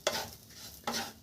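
Semolina goes into hot ghee in a frying pan, heard as two short, soft bursts of stirring and light sizzling about a second apart, quiet and close, with no talking.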